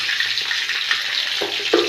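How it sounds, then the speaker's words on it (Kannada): Mustard seeds splutter in hot oil for a tempering with curry leaves, green chilli and ginger, a constant bright sizzle dotted with small sharp pops, close and steady with no talking. "ಸಾಸಿವೆ ಚಟಪಟ ಅಂದ ತಕ್ಷಣ"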